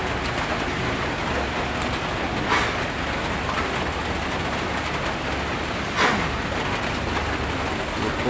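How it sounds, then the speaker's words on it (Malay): Heavy rain pours at Setinjau Laut, a hill road near Padang, in a dense continuous hiss, with a couple of brief swells as vehicles pass through the downpour. "Setinjau Laut diguyur hujan deras."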